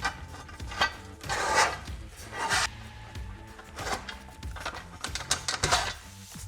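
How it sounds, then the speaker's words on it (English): Pre-threaded square nuts sliding into the bottom channel of a Weather Guard Defender truck rack on a Ford F-150, heard as close metallic scrapes, rubs and small clinks in irregular bursts. "Then I have these pre-threaded square nuts on here. Just gonna slide into that bottom channel."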